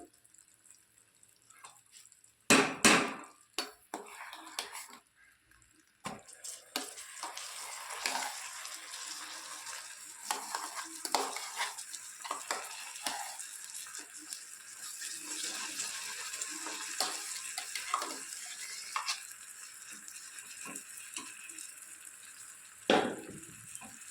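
Dal stirred in melted jaggery in a hot pan gives a continuous soft sizzle and bubbling, broken by a few sharp scrapes and knocks of the spoon against the pan.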